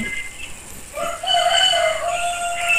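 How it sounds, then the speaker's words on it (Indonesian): A rooster crows at a distance in the early morning, a single drawn-out call rising and holding for over a second, faint and thin behind a quiet room with no talk. "sudah ada ayam berkokok"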